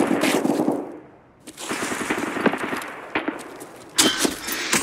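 Sniper gunfire in Escape from Tarkov, sharp loud shot cracks mixed with rapid bursts of fire, a short lull near the start, then clustered reports and a final loud crack, no speech.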